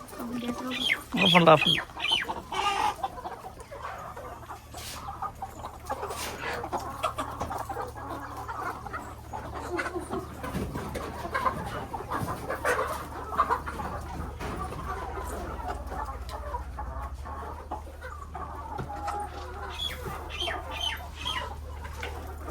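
Chickens clucking softly off and on over a steady low hum, with a louder flurry of squawks near the start.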